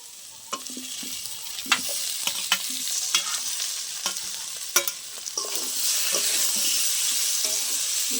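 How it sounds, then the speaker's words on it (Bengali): A spoon stirs fried potatoes and pumpkin through sizzling spice paste in a hot pan, scraping and clinking in irregular close strokes over a steady frying hiss, with no talk. "আলুর সাথে ভালো করে মশলাটা একবার মিশিয়ে নেব"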